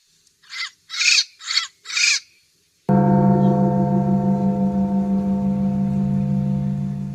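Four loud crow caws ring out alone in a short rhythmic series, then after a brief silence a sustained bell tone sounds and slowly fades, opening a church service.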